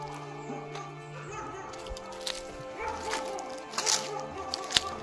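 Dogs bark and yip in a forest-area tribal settlement on the Telangana–Karnataka border, several short barks and whimpers at moderate distance, scattered irregularly over faint background sound.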